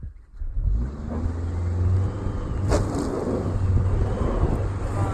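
A car creeps forward off-road with X mode engaged and VDC off, its engine giving a steady low rumble with a slight rise in revs, with wind buffeting the microphone.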